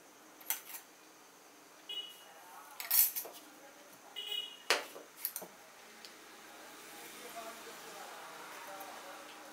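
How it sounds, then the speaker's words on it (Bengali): Spoon stirring ground panch phoron, fennel and mustard spice powder into tomato pickle, producing a few sharp metallic clinks and scrapes against a bowl, then softer continuous mixing. "এটা ছড়িয়ে দিলাম, মশলাটা এর মধ্যে মিশিয়ে দিচ্ছি।"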